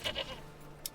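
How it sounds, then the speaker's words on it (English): Goats in the medieval village-building game Manor Lords give two quick bleats close together, fairly faint over quiet game ambience, followed by a soft click, no speech. "Let's get some goats."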